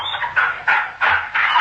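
A lurcher barks four times in quick succession in an old radio drama, sharp, loud and near, with no talk over it.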